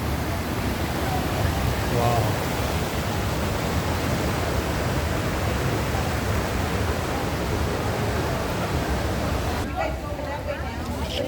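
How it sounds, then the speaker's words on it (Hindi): Water flowing along a stream through Ulm's historic old town, a steady broadband rush heard close and continuous throughout, with a brief spoken exclamation near the start. "साथ ही पानी बह रहा है"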